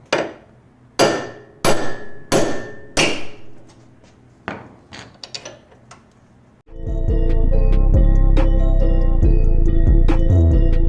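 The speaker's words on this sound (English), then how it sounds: "I'm going to bang a stud out like I did with the rears" Hammer blows knocking a wheel stud out of a car's front hub, a string of sharp ringing metal strikes, close and loud, followed by a sudden loud steady mechanical whir.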